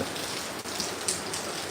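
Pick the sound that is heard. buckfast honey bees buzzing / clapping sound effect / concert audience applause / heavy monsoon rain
heavy monsoon rain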